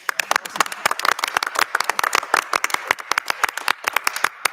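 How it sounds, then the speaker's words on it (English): Applause at a school board meeting, a modest group clapping with distinct, uneven individual claps, fairly close and continuous, without talk. "Let's just give these guys a round of applause."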